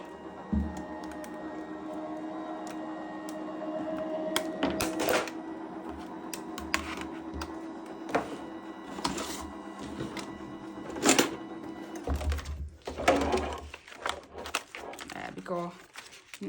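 A die-cutting machine rolls a butterfly die through plastic plates, a continuous low mechanical hum broken by sharp clicks, clacks and crinkling handling noises, close up, with a person talking over parts of it.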